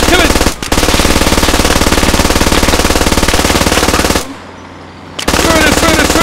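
Sustained rapid automatic gunfire from the Squad video game, a loud, dense stream of shots that drops away into a brief lull near the end, then resumes at full intensity.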